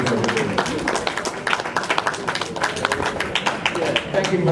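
Audience at a UN session applauding a speaker: a dense patter of many hands clapping indoors, fairly close and steady, continuing for several seconds.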